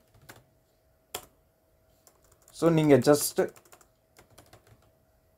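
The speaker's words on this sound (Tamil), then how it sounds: "டுடேன்னு நீங்கள் டைப் பண்ணிங்கன்னா இந்த விசுவல் ஸ்டுடியோ கோட் எடிட்டரில்" Scattered clicks from a computer keyboard sound sparsely before and after a brief spoken phrase, close and fairly quiet.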